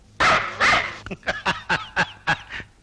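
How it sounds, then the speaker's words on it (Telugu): A house dog barks insistently, two long, loud barks followed by a quick rhythmic run of about six sharper barks, close by and with no talk over them. "నీ మాట నా ఇంటి కుక్కకు కూడా ఇష్టం లేదురా అందుకే అరుస్తోంది"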